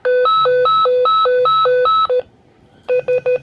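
A Swissphone s.QUAD voice fire pager sounds its fire call alert, loud and close: a rapid two-tone warble alternating high and low for about two seconds, a brief pause, then three quick shorter bursts.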